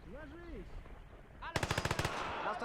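A machine gun fires a rapid burst of around ten loud close shots in the WWII game Gates of Hell, preceded by faint shouting voices and followed by distant battlefield rumble.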